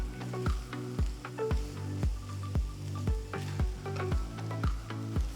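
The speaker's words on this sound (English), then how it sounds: "So we're going to slowly start making the scrambled egg." Egg mixture being stirred into large scrambled pieces in a hot pan for an Indo-Chinese chilli egg fry, with steady rhythmic scraping strokes about twice a second over a low continuous sizzle, close up.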